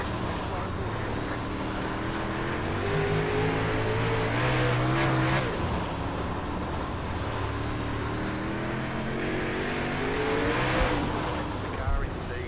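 Super late model race cars running several wide at Limaland, engines droning and shifting pitch as cars pass close by, with tire scrub and roaring revs rising and falling throughout; a commentator talks over the racing.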